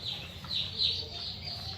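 Soft turkey clucks and warbling calls from a tom and six hens in a poultry barn sound close but quiet over a low background hum.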